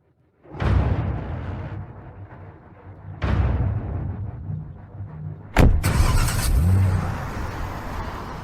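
A car is heard close by in a dramatic scene, with several abrupt surges of engine and road noise followed by a sharp impact-like burst and a sustained rumble.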